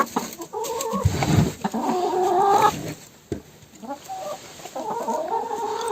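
Hens in a henhouse cluck in short repeated calls that rise and fall close by, with brief pauses and a sharp knock in between.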